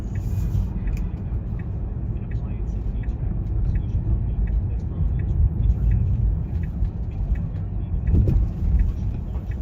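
A taxi rumbles past on a busy New York City street, a low steady rolling engine and road roar swelling slightly near the end, with faint ticking and background voices in the city ambience.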